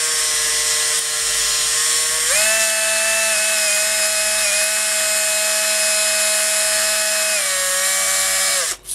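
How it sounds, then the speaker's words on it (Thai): An electric drill spinning sandpaper whirs continuously at high speed, its pitch stepping up partway through then settling, loud and close with no voices. "ก็จับไปที่ตัวแกนโอเคครับแล้วก็ให้สว่านทำงานเล่นไปเล่นมาครับ"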